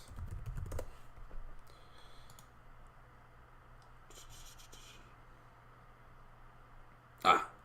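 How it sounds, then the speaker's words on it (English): Someone types on a computer keyboard, with faint, sparse key clicks in two short flurries and quiet stretches between them, ending with one louder knock. "So let me type this up."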